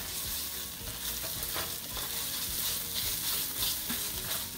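Pasta sauce sizzles and fries steadily in a hot pan while being stirred, a continuous close crackling hiss with scraping stir sounds and no talking.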